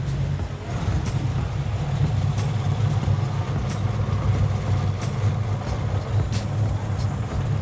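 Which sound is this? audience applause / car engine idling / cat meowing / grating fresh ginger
car engine idling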